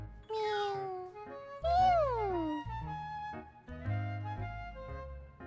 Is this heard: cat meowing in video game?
yes